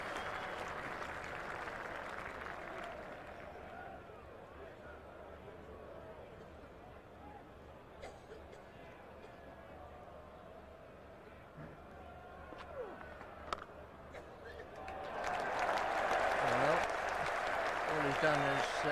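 A cricket Test crowd at England versus Australia in 1997 cheers and applauds England reaching 150 runs; a broad distant roar swells loudly at the end after a stretch of murmuring ground noise under commentary.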